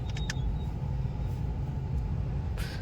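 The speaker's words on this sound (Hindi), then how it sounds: "और इधर हो गया है ट्रैफिक" Steady low road rumble of city traffic in Jaipur, heard from inside a vehicle on a busy street, with a few faint high horn-like tones near the start and end.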